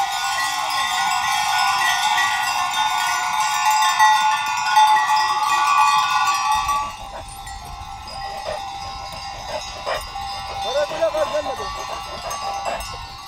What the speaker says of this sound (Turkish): Bu zil sesi ne kemençe sesine benzer ne saz sesine.